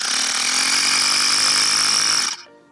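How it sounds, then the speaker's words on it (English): Portable electric tire pump inflating an ebike tire: a loud, steady motor whine with a high-pitched hum runs continuously for over two seconds, then cuts off abruptly near the end. "I really like these electric pumps because they're just so easy to use and they're compact as well"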